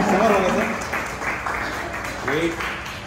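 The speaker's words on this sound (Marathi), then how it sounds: "एकदा जोरदार टाळ्या म्हणून जाऊ दे चौथ्यांसाठी." An audience claps in a steady wash of applause at an award event, with voices calling out and talking over it near the start and again toward the end.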